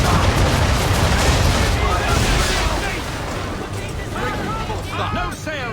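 Gunboat cannon fire in the naval combat of Assassin's Creed III, loud repeated booms and blasts over a dense battle din, with shouting voices and crew calls mixed in throughout.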